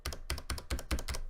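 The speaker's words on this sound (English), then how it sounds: "I went ahead and pushed every single key on the keyboard." Keys pressed in quick succession on a Ducky One 2 Mini mechanical keyboard with Cherry Brown switches: six crisp, evenly spaced clacks, close and clear with no talking.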